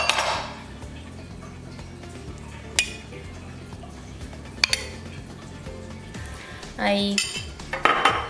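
A utensil stirs a tapioca mixture in a bowl with sharp clinks and scrapes against the side, scattered taps followed by a brief burst of mixing clatter, close and moderately loud, with a short spoken word.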